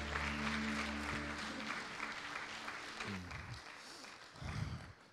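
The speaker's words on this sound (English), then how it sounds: "Let's give Jesus a little hand clap" A church congregation claps for Jesus in a dense burst of applause that gradually thins out, with low organ or keyboard tones sustained underneath and a brief voice near the end.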